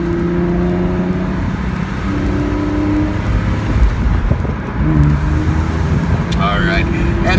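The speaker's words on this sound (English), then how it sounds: "the sound from the exhaust" A 2006 Porsche 911 Carrera S convertible (997) with sport exhaust drives under load, its engine droning and shifting pitch as it accelerates through the gears. The drone sits under someone talking inside the car.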